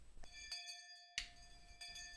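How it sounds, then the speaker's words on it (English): A school bell rings for home time in a visual novel game, clear metallic chimes struck several times with ringing tones that linger between strikes, quiet and alone with no voices. "Oh, is that the bell for home time?"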